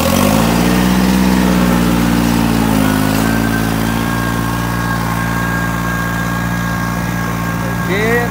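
A New Holland 3630 tractor engine works under load pulling a 15-tine tiller, a steady loud diesel drone with a slight pitch sag early on, continuous and close throughout.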